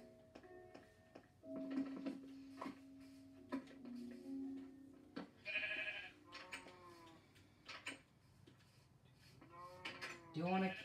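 Blocky sheep from the video game Minecraft bleat in a few short, wavering cries, fairly clear over faint game ticking, with a player talking in between.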